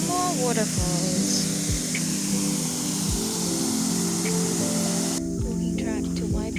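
New Zealand waterfalls roar as a steady, broad rush of falling water, loud and close, while a person talks over it throughout.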